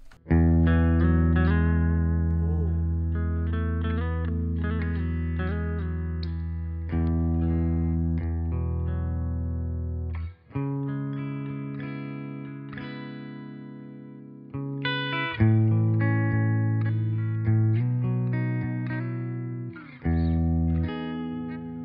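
An electric guitar played through a Blob Audio amp with heavily pushed reverb and delay rings out in sustained chords and melodic phrases, notes blooming and trailing into long echoing tails, with a few brief pauses between passages.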